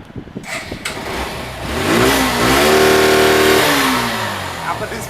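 An old-model Suzuki Gixxer motorcycle in fresh, used condition idles nearby, then its engine revs up sharply, holds a loud steady drone for a couple of seconds and drops back toward idle.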